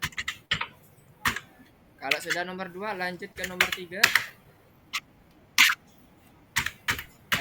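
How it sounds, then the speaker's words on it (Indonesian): Several people type on computer keyboards during a programming class, producing scattered bursts of soft, close clicking with pauses between them, partly under a voice speaking. "Semuanya sedang mengetik."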